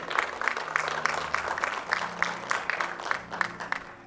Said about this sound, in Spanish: un fuerte aplauso al Rey de Reyes